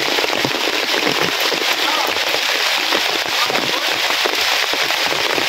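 Heavy morning rain pours steadily outside a house, a dense, loud hiss of drops drumming on surfaces that continues without a break.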